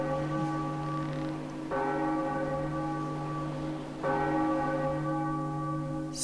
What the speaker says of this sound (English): it looks like there's a bell. So, ring the bells.